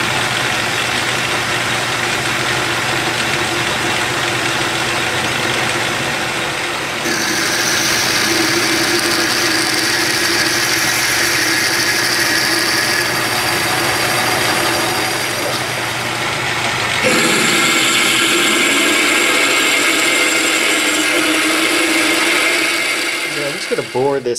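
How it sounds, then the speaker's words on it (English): A lathe center drills a hole through a steam engine stuffing box, a steady close machine whine and hum that shifts in pitch and intensity as the cut changes, with no talk. "Alright, so now we're gonna drill a hole through the center."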